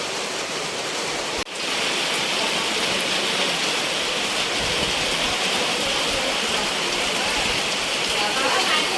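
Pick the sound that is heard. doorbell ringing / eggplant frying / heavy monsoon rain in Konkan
heavy monsoon rain in Konkan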